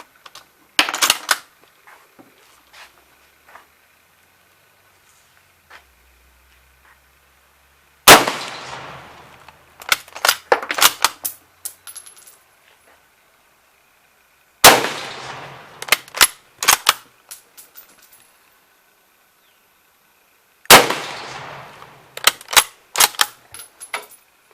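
A Mauser Kar 98K bolt-action rifle fires at a 50-yard target outdoors, with four loud, sharp shots spaced several seconds apart, each followed by metallic clacks and rattles as the bolt is cycled, and no talking.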